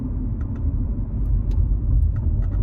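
An Audi RS3 hatchback engine rumbles low and steady nearby, with a few faint clicks over the deep drone.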